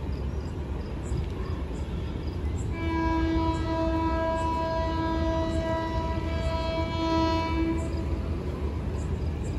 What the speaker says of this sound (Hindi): ये सामने से KCR 3 अप भी आ चुकी है GMU 30 SR के साथ।